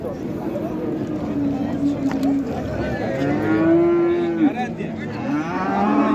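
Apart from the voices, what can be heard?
cow mooing at a cattle market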